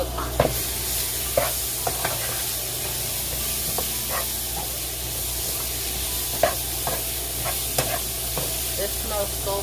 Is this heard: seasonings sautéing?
yes